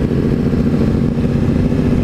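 A sport motorcycle in race mode, likely a Yamaha R6-class bike, idles and revs with a steady, loud, rumbling engine note throughout.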